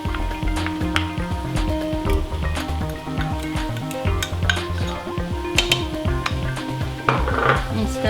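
Pineapple chicken prawn fried rice being stirred and tossed with sauce in a pan, giving steady clattering and scraping of a utensil against metal, loud and close, continuous throughout with no talking.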